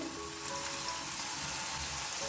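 Garlic and tomatoes sizzle and fry steadily in a pan, a continuous close hiss with no talking.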